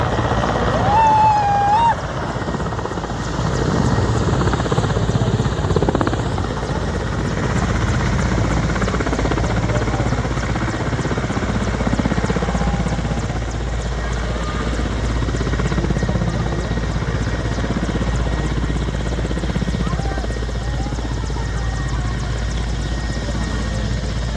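A helicopter carrying the Assam chief minister, the home minister and other ministers comes in to land at the Bathou Mahasabha gathering, its rotor and engine roaring steadily and loud throughout, with a crowd murmuring underneath.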